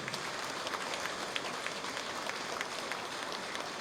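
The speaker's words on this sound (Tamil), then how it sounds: "உண்மையிலேயே அதுக்கு ஒரு கைத்தட்டல் கொடுங்க, நன்றி சொல்லுங்க." Audience at an astrology book launch event giving a round of applause, a fairly soft, continuous patter of many hands clapping at a moderate distance.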